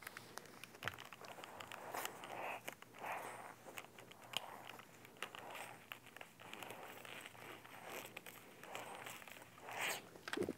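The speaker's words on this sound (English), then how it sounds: "What we can do at this point is zip the zipper closed" A zipper on a sewn fabric bag pulled closed in a long, steady run of soft, scratchy zipping with small ticks and rustles, close up and fairly quiet, with no talking.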